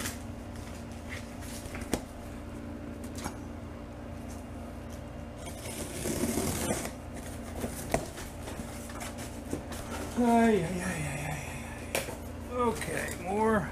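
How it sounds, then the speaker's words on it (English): Heavy duty packing paper pulled from a parts box for a 1947 MG TC rebuild, with bursts of crinkling and rustling mid-clip amid handling knocks, while someone talks throughout. "We got lots of paper. Oh, heavy duty paper this time."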